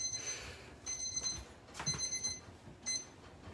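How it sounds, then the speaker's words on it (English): A kitchen timer goes off while eggs cook on the stove, sounding as several faint repeated electronic beeps in short bursts over low kitchen background noise. "There's the timer."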